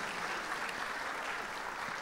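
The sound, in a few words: church congregation applauding visitors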